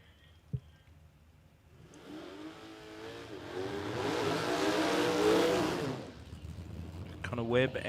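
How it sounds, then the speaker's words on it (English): A drag racing car does a burnout at Willowbank Raceway during qualifying, its engine swelling to a loud sustained roar for several seconds and then fading, with a commentator talking over it. "Nice, couple of nice burnouts there"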